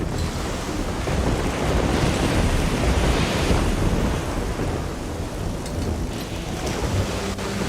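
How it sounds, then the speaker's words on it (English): A dense, roaring storm from the video game Risen 2: heavy rain and crashing waves form a steady loud wash, with rumbling thunder swelling beneath throughout and no voices. "In this storm?"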